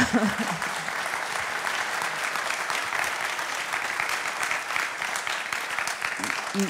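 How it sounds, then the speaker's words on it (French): An audience applauds a speaker at a talk on democracy, an even, continuous patter of many hands clapping at a steady level from start to finish. "Vous pouvez applaudir Tristan hein, si vous trouvez que c'est chouette."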